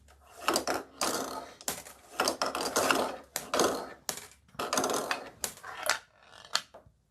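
A marble strikes a stacked column of metal washers arranged like a Newton's cradle, giving a series of sharp close clacks and rattling clusters spread irregularly across the run.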